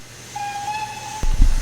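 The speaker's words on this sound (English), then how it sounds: "So let's do the whistle and let's depart." A steam locomotive whistle on the Midland Railway Butterley in Train Simulator Classic gives one steady, clear toot of about a second, followed by low chuffing and rumbling thuds as the engine starts to move.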